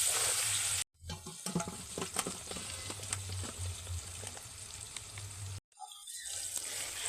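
Chopped onion frying in a pan, a continuous close sizzle with a faint crackle and some stirring scrapes, interrupted by two brief cuts to silence.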